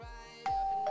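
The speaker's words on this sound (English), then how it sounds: "It sounds like an actual doorbell." A video game doorbell chimes twice inside a house, each ring a clear two-note ding-dong with a ringing tail, close and fairly loud, with no voices.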